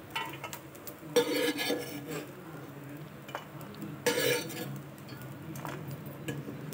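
Black gram lentils being stirred as they fry in a pan, with quiet scraping and ticking clinks of a spoon against metal, including two sharper bursts, over a low steady background.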